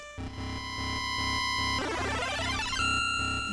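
Synthesized Metroid II game music with a steady pulsing beat, joined midway by a dense burst of chirping, swirling electronic effects before settling back into the loop.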